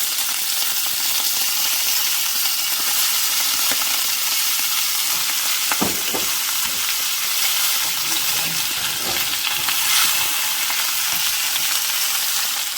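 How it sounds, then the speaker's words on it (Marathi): Prawns fry in oil for a biryani, a continuous close sizzle with occasional stirring clinks and scrapes. "आपली जी उरलेली 600 ग्रॅम प्रॉन्स आहे ती ऍड करते आणि तेलात आपण छान अशी फ्राय करून घेऊया"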